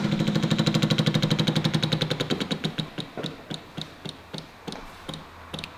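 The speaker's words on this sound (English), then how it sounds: "Fuel pump's priming." Electric fuel pump priming on a barn-find MG-TD parked 54 years, a fast steady ticking that gradually slows into spaced clicks, close and clear.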